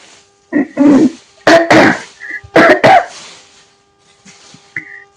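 Several sharp coughs in quick bursts, close and loud, with a brief throat-clearing sound near the end; no talking.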